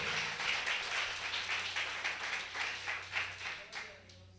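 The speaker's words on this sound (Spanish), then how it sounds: "Denle un aplauso al Señor." A church congregation claps together, a rhythmic, fairly quiet patter of hands with a steady low hum beneath, the beats pulsing in loose unison for a few seconds.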